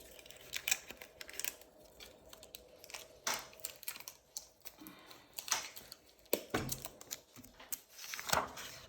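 Blank sheet of paper being handled during a math lesson, with scattered crisp rustles, crinkles and snaps of varying loudness, close and fairly quiet, with no talk.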